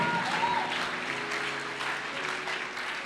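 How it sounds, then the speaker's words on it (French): A church congregation at a Christian revival gathering in Dakar applauds loudly and steadily, a dense wash of many hands clapping close by with faint cheering voices mixed in throughout. "Acclamons Jésus pour leur vie."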